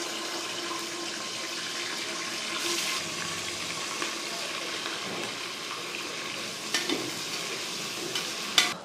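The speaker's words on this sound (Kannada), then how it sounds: "ಈಗ ಆನಿಯನ್ನು ಚೆನ್ನಾಗಿ ಫ್ರೈ ಆಗಿದೆ." Chopped onions frying in hot oil with cinnamon, cloves and dried fenugreek leaves for chicken biryani, a steady soft sizzle with occasional stirring scrapes and clinks close by.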